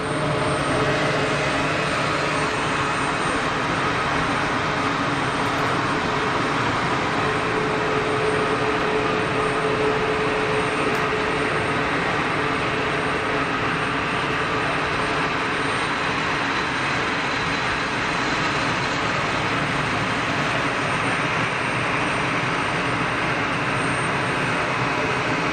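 An easyJet Airbus A320 is pushed back at Geneva Airport, heard as a constant broadband engine roar and hum that stays steady and fairly loud the whole time.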